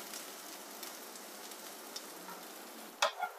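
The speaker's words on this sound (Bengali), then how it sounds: "ব্রাউন কালারের হয়ে যাওয়া পর্যন্ত ভাজা ভাজা করব" Capsicum, other vegetables and soaked soybean chunks fry in oil in a home kitchen, giving a faint, steady crackle, then near the end a brief spoon scrape or clink stands out.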